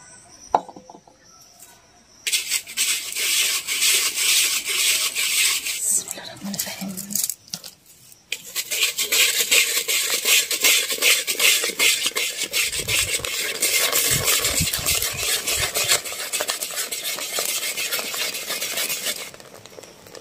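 Puffed rice is roasted in hot sifted sand in a clay pot, giving a loud, sustained gritty scraping and rattling of stirred sand and grains that pauses briefly partway through.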